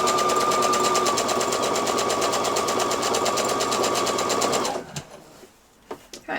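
A sewing machine with a twin needle stitches a T-shirt hem, a fast, steady, close whirring rattle that runs continuously before stopping abruptly, leaving a few soft handling clicks.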